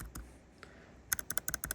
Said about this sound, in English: get about a 10-degree angle, slide in, and then just press in, and you'll feel it clicking